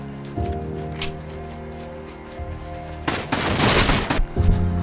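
Shotgun fire in the Rust survival game: a loud burst of blasts and crackling impact noise erupts partway through, over a sustained droning musical background.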